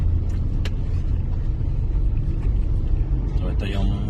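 Road traffic in Cebu's South Road Properties, a loud continuous rumble of passing vehicles close by, with a voice talking over it.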